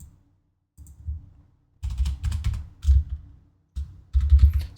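Typing notes on a computer keyboard in short bursts of close, crisp key clicks separated by brief pauses, with no talking.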